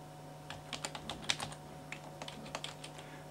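Fingers type a password on a computer keyboard, a run of light, close key clicks in an irregular rhythm over a faint steady hum, with no talking.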